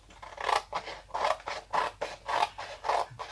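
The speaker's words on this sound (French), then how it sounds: "Je vais finir de découper avec vous" Scissors snipping through paper while trimming pastel paper tags and small round cards, a steady series of about seven crisp cuts at an even rhythm, close and clear with no talk.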